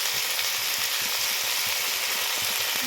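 Potatoes frying in a pan as they are stirred, with a loud, steady sizzle filling the whole stretch and soft scraping taps underneath.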